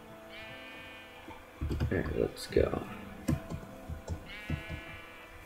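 Blocky sheep in Minecraft bleat in a few short calls near the start and again near the end, with keyboard clicks and someone talking over the middle stretch.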